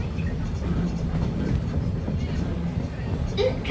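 A steam train rolls along the rails on a snowy day in Lancaster, giving a steady, continuous low rumble and clatter that fills the whole stretch at an even, moderate level, with no clear whistle or chuff standing out.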